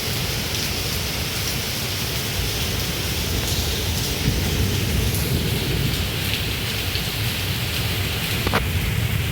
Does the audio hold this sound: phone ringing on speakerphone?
no